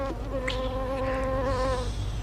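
A housefly buzzes steadily and close by in a sport shop, a continuous droning whine with wavering pitch that holds for about two seconds before fading.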